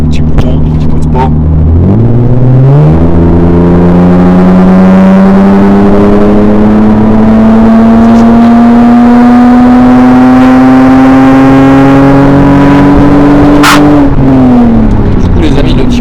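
Lexus fitted with a 2JZ engine, put in sport mode on big wheels and tyres, roars as it accelerates, its engine note climbing steadily through a long pull before a shift and a drop, loud and close with cabin whir.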